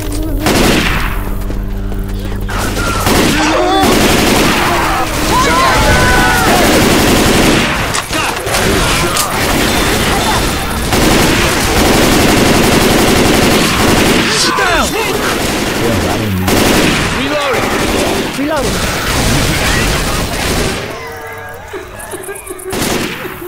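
Rapid gunfire from the Left 4 Dead 2 campaign The Parish on Expert difficulty, loud and dense bursts, with game characters shouting over the shooting.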